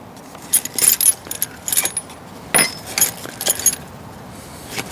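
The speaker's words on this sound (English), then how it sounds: "in the toolkit that it comes with, there should be an Allen key." Allen keys jangle in the small toolkit of a petrol backpack leaf blower, a bright metallic rattling in several short bursts close by, with no one talking.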